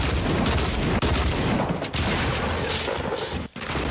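Dense, continuous gunfire fills a shooter video game, with loud overlapping shots and booms packed into a relentless barrage and only brief dips between bursts.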